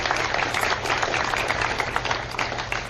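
Crowd applause at an outdoor Back The Blue march in McMinnville honoring police officers' families, a dense steady wash of many hands clapping at once, loud and sustained throughout with no voices standing out.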